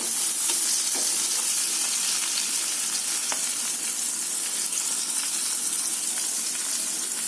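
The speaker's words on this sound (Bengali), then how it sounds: "তেলে আমি সুন্দর করে মোরিঙ্গাগুলো ভেজে নেব" Moringa leaves fry in hot oil with a steady, dense sizzle that holds loud and close throughout, with faint stirring scrapes now and then and no voices.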